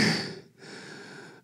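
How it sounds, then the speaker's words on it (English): Heavy, close breathing, with a long rushing exhale, a short pause, then another airy breath and a sharp intake at the end. "A lot of heavy breathing."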